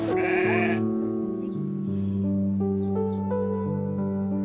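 Several sheep bleat close by in a rural setting, a series of loud, wavering bleats that overlap and follow one another with no talk over them.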